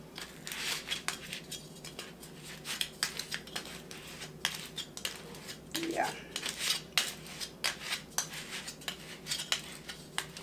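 A spoon picked up among kitchen utensils while making pink peanut patty peanuts: scattered metallic clinks and clatters of cutlery and dishes, close but fairly quiet, with a faint voice in the background.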